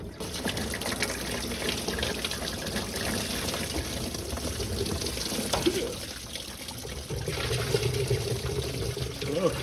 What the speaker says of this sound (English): we're getting some liquid.